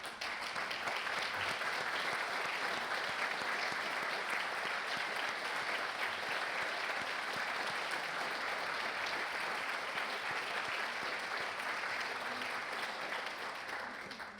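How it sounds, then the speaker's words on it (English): Sustained applause from a large audience at a county State of the County address, honoring veterans who stand; steady and dense for about fourteen seconds, moderately distant and continuous without a break. "would you please honor me in standing up so that we can give you a round of applause?"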